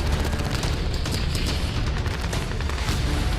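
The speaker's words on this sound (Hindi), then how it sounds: "केवल 8 मिनट ही हुए थे कि एक जोरदार धमाका हुआ और HMS हुड तबाह हो गया।" Loud continuous booming and crackling roar of heavy gunfire and explosions at sea as the battlecruiser HMS Hood is destroyed, a dense sustained barrage with no pauses.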